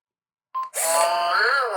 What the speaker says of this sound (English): He's got the sound effects and everything.